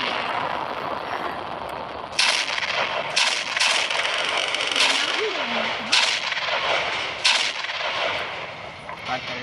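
Firecracker blasts in a Diwali crackers video game go off as a series of loud, sharp booms repeating every second or so over a continuous rumble, with people talking throughout.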